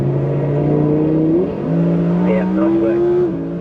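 An Audi performance car on a race track during a track day accelerates hard in close, loud gear-by-gear surges, the engine pitch rising, dropping at a shift, then climbing again, with an instructor's voice over it.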